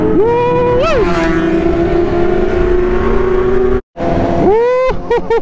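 A 2020 BMW S1000RR M sport motorcycle engine screams loud and close at high speed, holding a steady high-rev whine with quick pitch dips at gear changes. It cuts out briefly, then climbs again through rapid shifts.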